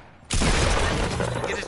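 Loud gunfire in Fortnite Battle Royale erupts after a brief quiet moment, a dense burst of rapid shots running on without a break, close and harsh.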